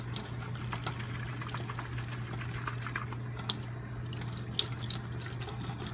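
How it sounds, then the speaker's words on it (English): Steady water pouring from a tap, a continuous hiss with occasional small splashes, fairly quiet and close, no voices. "As you can see, that water's coming out really clear."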